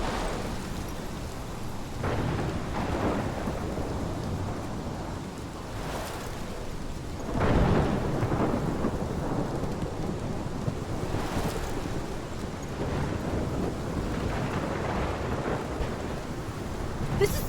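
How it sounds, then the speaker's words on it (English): A rainy thunderstorm in the video game Life is Strange, with steady heavy rain and gusting wind broken by several deep rumbling thunder rolls, the loudest swelling partway through, with no voices. "This is my storm."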